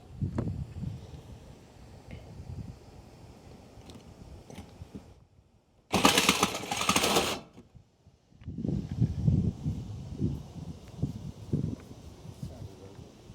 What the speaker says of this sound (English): the wind is actually still blowing the plastic.